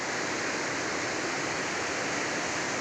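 Floodwater rushes past near a hillside temple during the monsoon, a dense, steady roar that stays loud and unbroken throughout with no voices.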